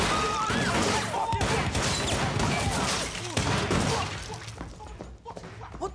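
Rapid bursts of gunfire crack and boom in a scene from the TV show Supacell, loud and dense at first and then thinning out toward the end.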